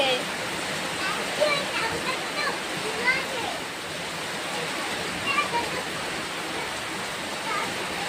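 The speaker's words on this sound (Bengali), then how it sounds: "দেখো বাইরে তো মুষলধারে বৃষ্টি হচ্ছে, বিশাল বৃষ্টি হচ্ছে" A heavy downpour of rain pours outside during a thunderstorm, a dense, even roar of rushing water with occasional louder gusts and a voice faintly present in the background.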